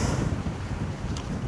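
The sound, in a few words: strong wind at a campsite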